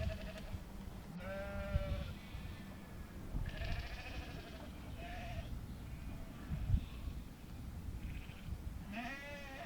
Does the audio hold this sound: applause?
no